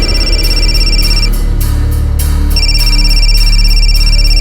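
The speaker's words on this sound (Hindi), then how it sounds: "पूजा, फोन उठाओ, डरो मत।" A telephone rings in repeated electronic bursts, loud and close, over a steady low hum with no voices.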